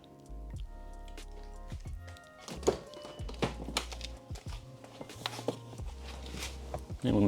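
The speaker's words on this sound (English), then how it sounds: "the soft close mechanism isn't working either. So let me show you what that sounds like." Faulty soft-close door lock on a 2004 Mercedes-Benz S-Class W220, giving a run of soft thunks, squishy mechanical clicks and a slow motorized pull as the door latches, close by, with a louder knock near the end.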